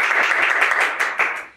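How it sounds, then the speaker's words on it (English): Brief, warm audience clapping greets a guest on a show, a dense patter of hands that fades out at the end. "Please clap warmly to the coronavirus survivor, Jessica."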